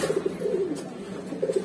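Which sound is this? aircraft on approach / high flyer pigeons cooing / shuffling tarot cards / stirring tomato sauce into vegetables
high flyer pigeons cooing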